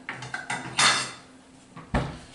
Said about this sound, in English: I'm going to crack an egg into it